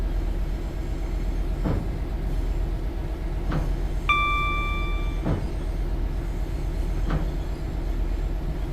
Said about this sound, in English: That sounds pretty neat, Super Sprinter.